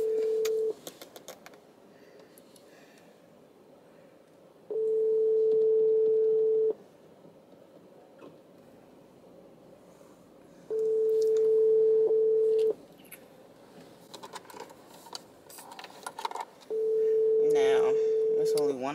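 A telephone call to Walmart ringing out, four long steady ring tones spaced several seconds apart, with quieter clicks, handling noise and background sounds in the gaps between rings.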